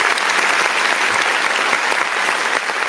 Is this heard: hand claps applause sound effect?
yes